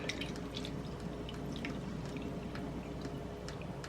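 Water trickles and drips into canned cream of mushroom soup to dilute it, soft splashy dribbles and drops close by over a low steady room hum, quiet with no talk.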